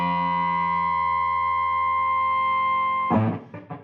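A Shin-Ei Screaming Sister octave fuzz pedal holds a sustained, buzzy, harmonically rich guitar note that cuts off abruptly, followed by a few short choppy bursts.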